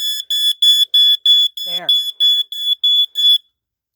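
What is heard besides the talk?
Radio Shack smoke alarm sounding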